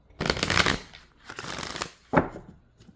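Tarot cards being shuffled in a quiet room: three separate riffling bursts, the first long and dense, a softer longer second, then a short sharp snap near the end, with no voices.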